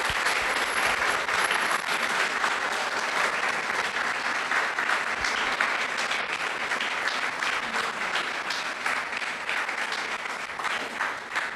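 A French-speaking audience at a youth centre public-speaking event claps continuously and fairly loudly, a dense steady applause that fades slightly toward the end.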